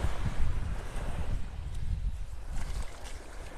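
Strong wind buffets the microphone on Vanderbilt Beach in North Naples, Florida, a steady low roar and rumble with gusting surges, loud and close, with no voices.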